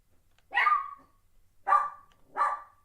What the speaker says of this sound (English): Y'all just gonna have to hear my dog barking this morning.